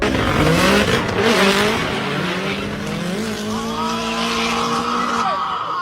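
A drift car at a Final Bout event screams past with a loud revving engine and shifting pitch, tires squealing as it slides, followed by more engine note fading slightly.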